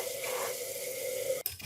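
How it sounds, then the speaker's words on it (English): Water pours steadily from a pot of blanched pork ribs into a kitchen sink, a continuous close splashing rush lasting over a second before stopping abruptly. "Drain the water and set the ribs aside."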